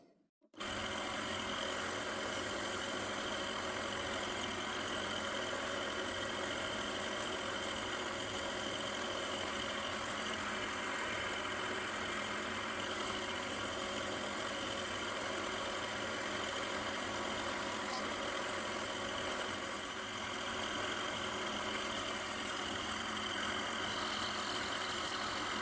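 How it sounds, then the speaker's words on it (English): A wood lathe spins steadily while a turned chess rook is sanded, a continuous close motor hum with a faint rhythmic whir and light rubbing texture, running alone and unchanged for the whole stretch after a brief start. "Now we're gonna sand it off a little bit."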